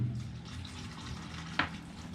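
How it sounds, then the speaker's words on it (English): Water trickles steadily into a container of coconut coir for seed starting, a soft continuous pour with one brief splash or knock near the end. "it looks like I need to add more water"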